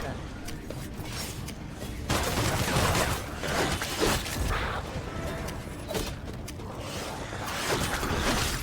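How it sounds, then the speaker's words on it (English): Gunfire in the VR game Hellsweeper VR, heard as dense, crackling bursts of shots and clattering impacts that stay loud and continuous, with a voice talking over them. "Getting shot at by something."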